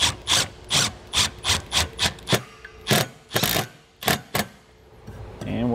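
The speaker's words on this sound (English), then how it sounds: "we can go ahead and tighten our screws up." Screws being driven into an exterior ladder on a 2021 Keystone Passport SL travel trailer, a series of short, sharp, close scraping bursts in quick rhythm with brief gaps, loud and without speech.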